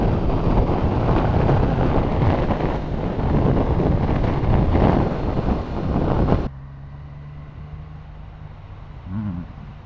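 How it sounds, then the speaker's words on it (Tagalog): Heavy wind buffeting the microphone of a rider on a big bike, a loud steady roar that drops suddenly to a quieter engine hum after several seconds. "Sobrang lakas ng hangin dito guys."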